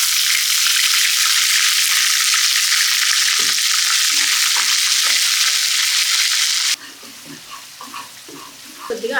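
Onion paste made from two roasted, blended medium onions fries loudly in hot oil with masala, a dense, steady sizzle that cuts off abruptly, leaving quieter stirring and scraping in the pan for a lemon korameenu fish curry.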